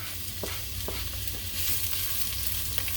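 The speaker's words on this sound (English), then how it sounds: "go ahead and let that saute till they're softened" A steady close sizzle of white onion sautéing in a heated pan for a ground beef dinner, with a few soft stirring scrapes and no voices.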